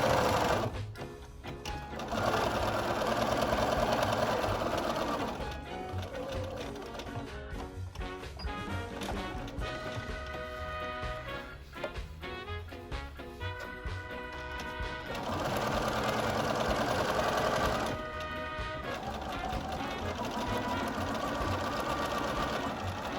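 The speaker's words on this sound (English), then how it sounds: "sew right up close to the edge, all the way to the end" A sewing machine top stitching along the edge of a fabric face mask, steady close whirring runs that pause briefly and restart, with no talking.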